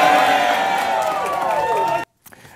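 Rally crowd cheers and whoops for Donald Trump, a loud, dense swell of voices that cuts off sharply near the end and leaves only a faint murmur.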